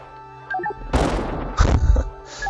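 Explosions from the video game Jumpsmith, a projectile blasting chunks out of the tile set: two loud, close booming crashes about half a second apart, each with a short rumbling tail, over faint game tones.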